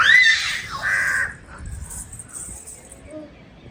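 A crow caws on a rooftop terrace: two harsh, close calls in the first second and a half, followed by quiet background noise and a faint, brief chirp.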